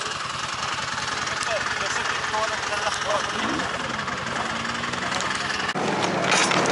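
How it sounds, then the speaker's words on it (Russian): A snowmobile engine runs steadily and loudly nearby during a deer hunt in snowy Yakutia, a continuous broadband drone with slight fluctuations and a shift in tone near the end. "Сейчас садимся на снегоход"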